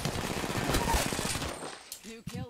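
RE-45 pistol in the Apex Legends game firing rapid automatic bursts, a dense rattle of shots at moderate volume, ending with a short gap and voices talking briefly near the end.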